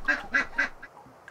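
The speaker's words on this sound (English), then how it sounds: "The chitter-chatter of the geese." Three quick, loud honking calls in a row from nearby birds, followed by a few fainter, softer calls trailing off.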